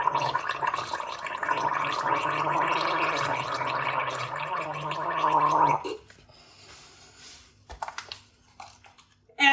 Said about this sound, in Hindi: अब आपको मेरी आवाज आएगी कि मैं कैसे गले में पानी डाल के क्या कर रही हूँ